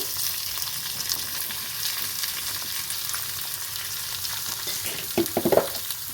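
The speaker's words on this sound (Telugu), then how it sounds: "ఎండుమిరపకాయలు వేసి కొంచెం వేగనిచ్చాక ఉల్లిపాయలు వేసుకోవాలండি." Onions and dried red chillies frying in hot oil for a home-made Telugu onion curry, a steady close sizzle throughout with a few louder stirring scrapes near the end.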